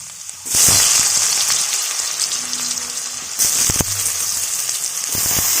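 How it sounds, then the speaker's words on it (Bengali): Mashed potato fries in oil in a kadai, a loud, continuous sizzling hiss that jumps up sharply as it starts and swells again midway, with scattered crackles and a few spoon scrapes, no talking. "আলুটাকে আমরা ভালো করে ভেজে নিচ্ছি"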